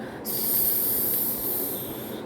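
A person's voice imitates the sound of wind with a steady, breathy hiss, close to the ear. It starts abruptly and holds evenly for about two seconds.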